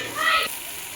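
Spoon stirring biryani in a pot, a single brief scrape with light sizzling, close and fairly soft.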